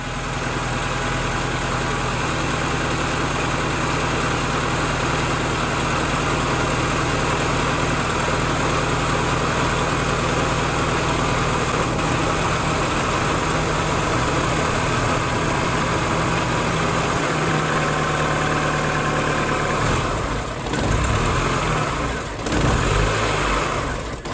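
A car engine under repair runs steadily for over twenty seconds with a fairly loud, even drone, and a faint repetitive clatter comes through it, with a brief dip near the end.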